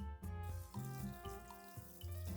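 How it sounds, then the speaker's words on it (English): Hot water pours in a steady, close stream into a mixing bowl while flour-free bread is being prepared, splashing continuously for a couple of seconds with no voices. "Grab a mixing bowl and pour in some hot water."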